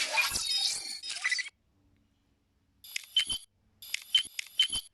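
Bright electronic chirps and beeps from a Ben 10 Omnitrix simulator game, a burst of tones followed by silence, then quick repeated clicking tones as the dial turns.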